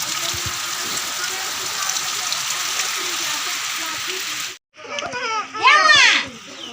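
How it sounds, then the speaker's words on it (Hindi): Dense, steady rain roars for several seconds in a village in Balia, then cuts out as children's voices and chatter rise in the foreground. "एत जोर वर्षा जे"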